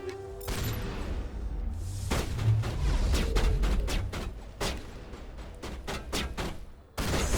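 Sniper gunfire in the video game Mass Effect, a run of sharp, loud shots and thuds in irregular rapid succession over a dense rumbling combat background.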